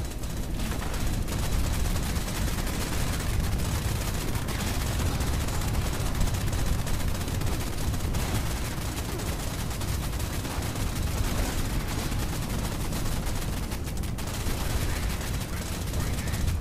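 A .50 caliber machine gun fires in long, dense sustained bursts in Fallout 76, a loud continuous roar of gunfire with little pause.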